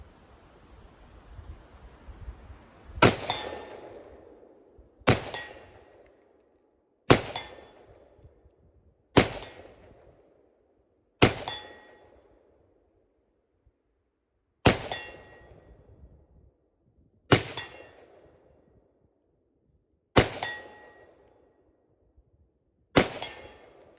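Ten rounds from Slavic small arms such as CZ, Radom and Mosin rifles fire at an outdoor range, each sharp report followed by a ringing decay, spaced about two seconds apart with one longer gap.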